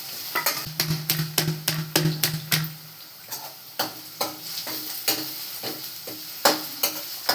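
Onions fry with a steady sizzle while a spoon stirs them briskly, producing rapid rhythmic scrapes and clicks against the pan, close and clear.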